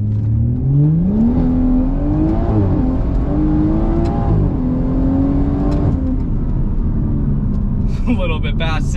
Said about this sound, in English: Here, we'll do a 0-60 run really quick.